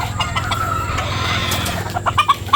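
Chickens cluck close by in a busy, continuous stream, with a few sharper squawks near the end and a low hum in the background.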